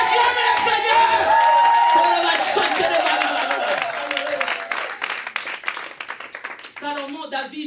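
A church congregation claps and cheers in praise of the Lord, loud applause and voices at first that thin out into scattered claps as speech carries on.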